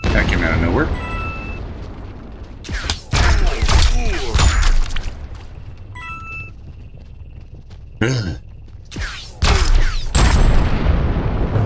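Several heavy booming blasts in the video game Supraland, loud and close, separated by stretches of quieter rumble and crackle, with voices and electronic tones mixed in.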